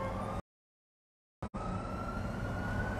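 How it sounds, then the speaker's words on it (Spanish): An ambulance siren passes along a city street, a continuous steady wail over traffic noise, broken by a brief dropout, then resuming loud and close. "Aquí se escuchaba la sirena de una de estas ambulancias"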